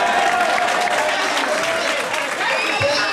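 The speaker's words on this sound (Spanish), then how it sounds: "Todos los que habéis aplaudido" Audience at a stand-up comedy show breaks into full, sustained applause mixed with cheers and laughter, dense and even throughout.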